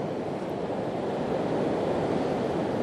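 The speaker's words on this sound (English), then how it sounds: "the waves are starting to get a little bit bigger" Ocean waves breaking against rocks at Devils Punchbowl in Newport, Oregon, as the high tide comes in, a steady, loud, broadband roar of surf with continuous wind rumble on the microphone and no distinct individual splashes.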